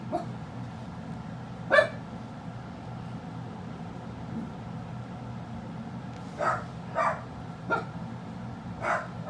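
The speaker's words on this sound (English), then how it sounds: "One dog barks, they all bark. Or they both bark." Two household dogs barking indoors at a moderate distance: one sharp bark, a pause, then a cluster of several spaced barks over a low steady background hum. No talking.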